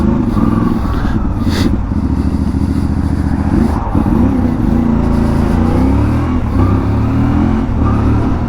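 A CFMoto 450MT motorcycle with a remapped ECU revs loudly and steadily up close, its mid-pitched engine note rising and falling throughout without a break.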